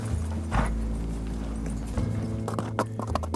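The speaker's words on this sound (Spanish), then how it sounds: "El caballo peruano de paso." Peruvian Paso horse hooves clip-clopping in a quick, even rhythm, close and fairly loud, over a steady low background with no speech.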